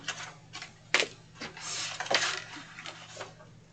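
Scissors snipping the wing tabs off a paper gift box, a run of short crisp cuts and paper rustles at close range, fairly even in rhythm and alone without speech.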